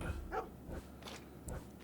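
Dogs bark in the Hitman Go video game while chasing, a few short yaps close together over a low game backdrop, no talk.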